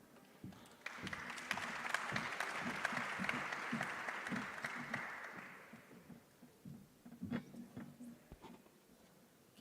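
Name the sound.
audience applause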